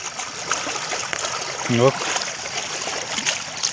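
Water flows and trickles steadily through a waterlogged ginger field after heavy rain, a continuous close, gentle rushing, with a brief voice breaking in partway.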